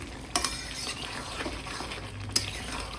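Meat curry with potatoes being stirred and fried in a pan, a low steady sizzle with scraping spoon strokes and a couple of sharp metallic clinks against the pan, close and alone.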